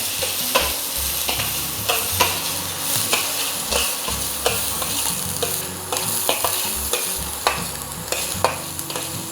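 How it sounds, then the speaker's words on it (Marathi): Finely chopped onion fries in coconut oil for a Goan prawn curry, a loud close sizzle with repeated spoon scrapes and stirring clicks at a steady rhythm, no talking. "मागीर एक बारीक चिरलेले कांदो घालया। कांदो बरें फ्राय करूं जाय।"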